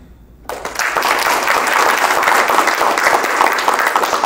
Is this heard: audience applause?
yes